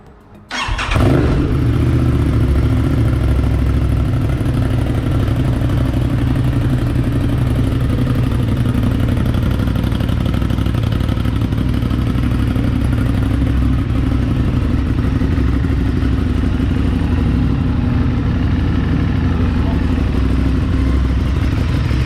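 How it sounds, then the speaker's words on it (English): An Aprilia RS 660 fitted with an SC Project exhaust, baffle in place, cranks and fires, then settles into a loud, steady, close idle that drones on evenly for about twenty seconds. "First start with baffle on."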